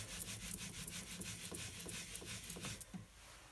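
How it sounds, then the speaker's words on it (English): An inked rubber stamp is scrubbed clean on a Stampin' Up! stamp scrub pad, making quiet, rhythmic back-and-forth rubbing strokes at a steady pace, with no voices. "I'm just using my Stampin' scrub to clean that off."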